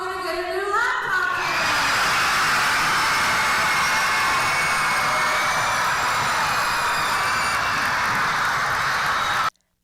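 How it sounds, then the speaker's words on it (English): Central Elementary School students cheering in excitement at a surprise of new laptops, a sustained, loud roar of high children's screams filling a room, starting right after an adult voice and then cutting off abruptly at the end. "That was the sound of Central Elementary School students cheering from excitement"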